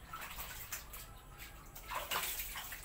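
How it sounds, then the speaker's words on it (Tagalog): Laundry is hand-washed in a kitchen sink, with water sloshing and splashing steadily, swelling in louder bursts and heard faintly and close, with no voices. "naglalaba sa ating lababo"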